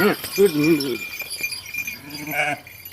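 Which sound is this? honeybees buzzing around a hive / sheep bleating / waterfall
sheep bleating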